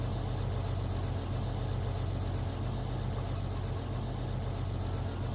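Bizon combine harvester engine idling while warming up, a steady low diesel rumble with an even rhythmic throb, close and constant throughout.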